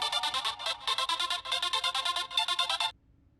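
A mobile phone ringtone rings in repeated bright bursts of a melodic pattern for about three seconds, loud and close, then stops abruptly.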